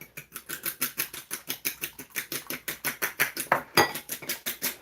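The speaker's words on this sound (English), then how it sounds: "Let's have another little stir up there." Beaten egg whisked in a bowl, heard as a fast, steady rhythm of close, sharp clicks and taps, about five strokes per second, with one louder knock near the end.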